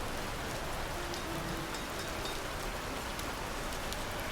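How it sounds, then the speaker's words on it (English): Rain falls steadily in the medieval city-building game Patron, a constant dense patter at an even level that runs alone throughout. "And we've hit our rainy season. Oh my gosh, it is going to rain all summer."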